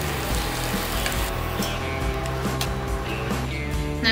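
Malpua frying in hot ghee, a continuous bubbling sizzle with light scattered pops and a few faint clinks, close and steady throughout.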